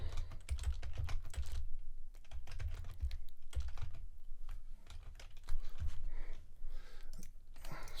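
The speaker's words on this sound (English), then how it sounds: "Sorry, my typing skills just seem to escape me today." Typing on a computer keyboard sounds as quick, uneven bursts of close, soft key clicks with brief pauses between them.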